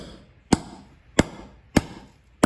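Four sharp metallic hammer strikes driving a bearing into a John Deere or Honda front wheel hub at an even, unhurried pace, each ringing briefly before the next blow.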